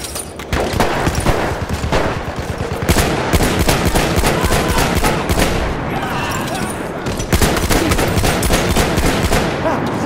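Sustained rapid gunfire in a multiplayer console shooter, loud overlapping automatic bursts and single cracks firing almost nonstop close up, with faint voices underneath.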